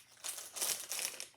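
A plastic bag crinkles close by in three quick bursts of crisp rustling during gun work with tools, quiet between the bursts and with no talking.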